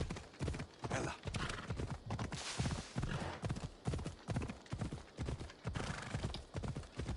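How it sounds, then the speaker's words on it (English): Horse hooves clip-clop in a steady galloping rhythm in the video game Assassin's Creed Odyssey, loud and close, with evenly spaced hoofbeats running throughout. "Struggling to control my horse,"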